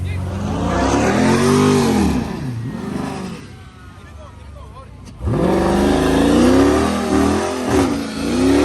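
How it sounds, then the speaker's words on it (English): A car approaches and drives past on a street near a factory Nissan 370Z at a street-racing meet, its engine rising loud and close, fading, then surging again, with people talking over it. "Hold up, car coming."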